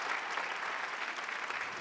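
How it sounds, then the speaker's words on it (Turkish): Audience applause for an orchestra at a televised music show, a brief, dense burst of clapping from a crowd, steady and moderately loud with no talk over it. "Alkışlar orkestraya gelsin."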